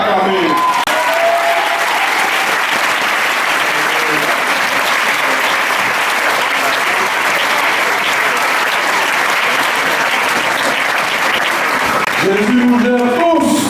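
A church congregation at an evangelical service bursts into loud, sustained applause with cheering that fills the hall, and a voice speaks briefly near the end.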